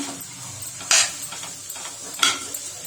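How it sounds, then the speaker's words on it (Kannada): A spatula stirs coriander leaves into an egg and drumstick flower stir-fry in a pan: two sharp metallic clanks over soft scraping and faint clinks at close range. "ಮಿಕ್ಸ್ ಮಾಡಿಬಿಟ್ಟು ಈಗ ಕೊತ್ತಂಬರಿ ಸೊಪ್ಪು ಹಾಕಿ ಸ್ವಲ್ಪ ಒಂದು ಮಿಕ್ಸ್ ಕೊಡೋಣ"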